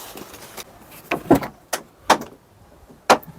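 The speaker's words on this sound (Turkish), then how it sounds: "Bir dakika kapı Açalım." A caravan door is being opened from inside, giving a series of sharp knocks, latch clicks and thuds spaced irregularly, close and fairly loud with no speech.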